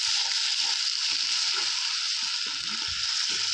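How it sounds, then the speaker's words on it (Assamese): Meat frying in a pan gives off a steady, close sizzling hiss throughout, with soft stirring and clinking sounds scattered underneath. "মাংসটো ফ্ৰাই কৰি লৈ আছোঁ"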